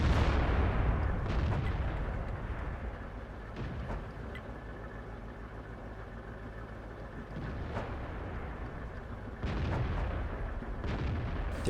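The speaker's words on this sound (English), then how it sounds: "They're blasting away at him, slowly wearing him down." Tank guns in World of Tanks boom repeatedly from several directions over a constant low engine rumble, with sharper loud shots landing near four, eight and nine and a half seconds.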